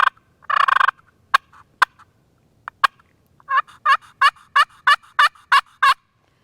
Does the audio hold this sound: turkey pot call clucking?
yes